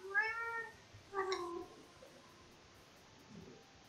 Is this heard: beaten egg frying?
no